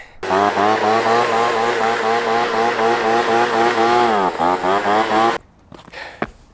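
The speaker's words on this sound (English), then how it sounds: "That leaf blower is trash. Does not work unless you just feather the choke." A small two-stroke gas leaf blower engine runs steadily at high revs with a loud, buzzing harmonic whine, dips briefly as the throttle wavers, then cuts off abruptly, leaving faint knocks and a soft rustle.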